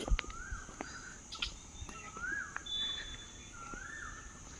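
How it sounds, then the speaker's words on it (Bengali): An Asian koel calls at a resort in Lataguri, a few faint, rising whistled notes repeating at a distance over a quiet outdoor background with no one talking. "কাজ পাচ্ছ কোকিলের ডাক"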